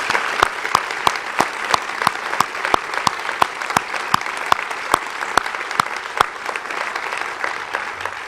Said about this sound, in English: Let's give our veterans a round of applause on Veterans Day.